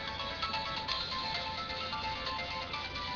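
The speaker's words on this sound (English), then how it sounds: "if you hear music right now, that's my phone because my cousin's calling me" A mobile phone rings with an incoming call, its ringtone music playing continuously at a steady, moderate level with no talk over it.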